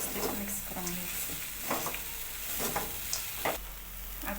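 Potato poha gets mixed in a pan, with soft scraping and stirring strokes over a low sizzle, irregular and close, and faint voice traces in the background.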